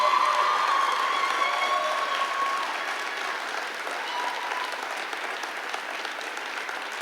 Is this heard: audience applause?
yes